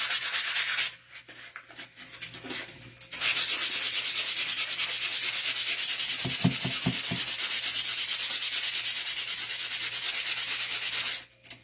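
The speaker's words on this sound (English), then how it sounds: "I'm going to sand this one." A thrifted item being sanded for upcycling gives steady, close abrasive rubbing that stops briefly, then carries on for a long stretch, with a few soft knocks in the middle.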